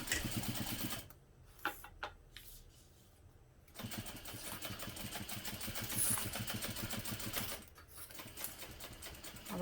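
A sewing machine stitches a pocket in place with a quarter-inch seam, running in rapid steady bursts that pause briefly between passes, loud and close with no talking.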